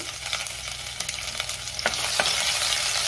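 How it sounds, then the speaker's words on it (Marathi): Cumin seeds with crushed ginger and garlic frying in two spoons of hot oil in a kadhai, a loud steady sizzle with a few sharp crackles and stirring scrapes, rising slightly toward the end. "तेल गरम झाले, त्यामध्ये मी जिरे घालते।"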